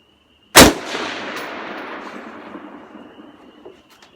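A single loud, close gunshot from a new Ruger AR-15 rifle, a sharp crack followed by a long, fading echo that rings out over several seconds.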